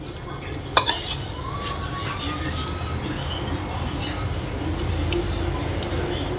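A utensil stirs in a pan of oil heating up for frying bakwan vegetable fritters, with a sharp metal clink near the start, then a steady soft hiss and scraping.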